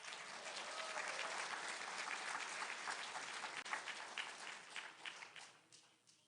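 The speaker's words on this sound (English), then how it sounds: "How about giving up a round of applause to these wonderful cantors?" A synagogue congregation at a Shabbat service applauds the cantors, a steady wash of many hands clapping that swells briefly and then tapers off toward the end, somewhat faint.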